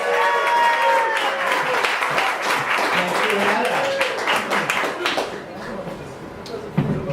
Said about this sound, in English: Let's give a warm round of applause to my dear friend Jamie Brickhouse